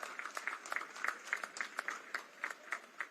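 Faint applause at a Jharkhand Home Guard passing-out parade ceremony, sounding like a small number of hands clapping in a loose, rhythmic pattern, fairly distant and thin.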